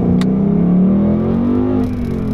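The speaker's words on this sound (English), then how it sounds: "we're going to go ahead and get on the throttle." A 2018 Ford Mustang GT with the performance pack pulls away under throttle, its V8 giving a loud, deep rising drone as revs climb steadily, close and uninterrupted, with a brief click near the start.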